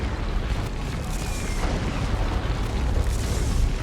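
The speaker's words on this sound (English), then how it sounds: "The explosions of those beams do big damage to vehicles." Continuous heavy rumbling explosions from an orbital strike in Dawn of War 2 roll on without pause, a dense, loud barrage of booming blasts filling the whole stretch.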